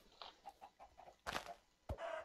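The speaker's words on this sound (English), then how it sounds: "I hear a chicken." Chickens clucking in a video game, a faint run of short soft clucks followed by a couple of louder squawking bursts, heard alone without talk.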